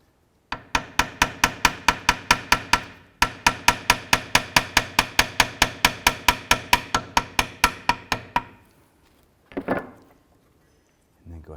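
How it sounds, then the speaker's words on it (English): Rapid, evenly spaced metallic taps, dozens in a row with one brief pause, as a hammer strikes the drive shaft of a 2005-10 Jeep Grand Cherokee, followed by a single softer knock and quiet. "You might need to give that drive shaft a couple taps to get that to line up."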